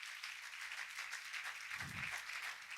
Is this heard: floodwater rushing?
no